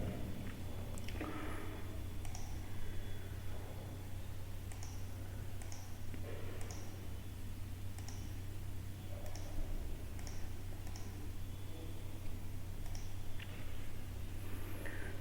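Keys tapped on a computer keyboard while entering shell commands as root in a Linux terminal, a sparse run of light clicks in short irregular bursts over a steady background hum.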